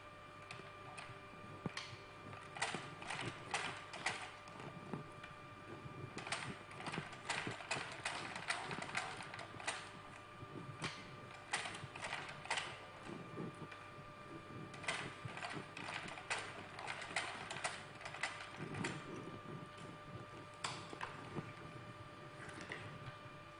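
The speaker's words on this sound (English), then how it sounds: "I'm going to sew the edge by ½ inch." A sewing machine stitches a half-inch seam along a fabric edge, its needle chattering in quick bursts separated by short pauses, steady and close with no talking.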